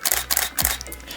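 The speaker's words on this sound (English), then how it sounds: "if I just take you can hear that shutter" A DSLR camera fitted with a battery grip fires its shutter in a few sharp, close mechanical clicks, with short pauses between the bursts.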